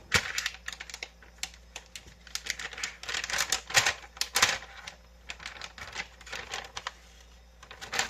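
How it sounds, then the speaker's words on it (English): Scissors cut open a plastic bag of frozen seafood in a kitchen, giving a rapid, irregular run of sharp crinkling snips and rustles that stays close and fairly loud throughout. "I'll just cut the bag open."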